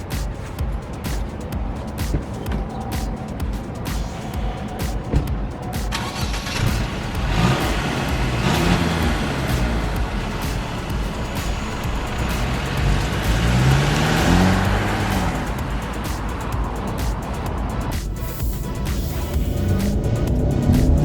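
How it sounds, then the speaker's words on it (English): A Mercedes-Benz GLC 300 with turbocharged power drives along, its engine and road noise a steady, close rumble that swells as it picks up speed, with tire and wind noise throughout and no talking. "Let's take the GLC 300 for a spin."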